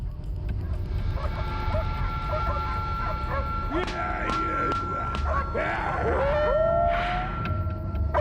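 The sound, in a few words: dogs barking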